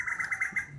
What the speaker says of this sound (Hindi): और सुबह सुबह पक्षियों की आवाज़ सुनने को मिल रही होगी आपको